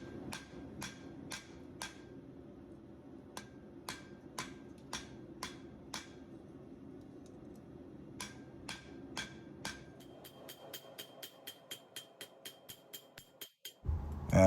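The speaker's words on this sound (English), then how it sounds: "I'm isolating the back of the knife for the tang. I do a lot of this work with the hand hammer" Hand hammer blows forging the tang of a hunting knife on an anvil, with sharp ringing strikes in steady, rhythmic runs separated by short pauses, then a quicker run of lighter taps near the end.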